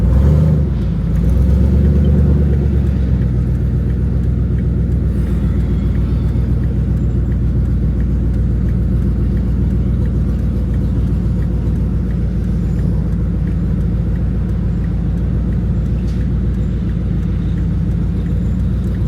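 A car with a failed transmission and no drive creeps slowly along, its engine a loud, steady low rumble that stays close and constant.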